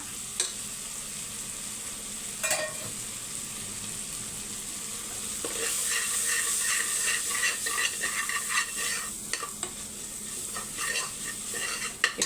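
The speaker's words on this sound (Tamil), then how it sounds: "இப்போ பாருங்கள் தக்காளி வெங்காயம் நல்லா வதங்கிடுச்சா" Tomatoes and onions sautéing in a pan with chili powder, a steady sizzle under repeated scraping stirs of a spoon against the pan, close and continuous, with a few sharper clinks toward the end.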